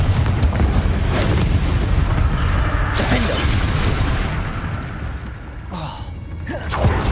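Confringo spell blasts go off in the Hogwarts Legacy video game: loud, rumbling fiery booms and crackling debris roll continuously, easing off briefly before another impact hits.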